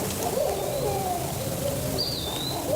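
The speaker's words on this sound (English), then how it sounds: "That's Owl." Two owls hooting in the woods at night, heard on the far side of a hill; soft, distant calls sit over a steady hiss of background noise, with one brief higher call near the end.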